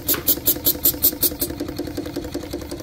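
Small steam engine running on steam, a rapid even chuff of about five exhaust beats per second, loud at first and then softening into a lighter mechanical clatter.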